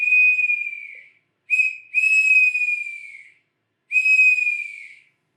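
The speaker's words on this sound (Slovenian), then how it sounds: "Enostavna glasbilca so piščali, ki so bile včasih spremljevalke pastircev. Ta je izdelana iz leske." A simple hazel-wood shepherd's pipe plays three sustained, slightly falling whistled notes, clear and close, separated by short pauses, with no talking.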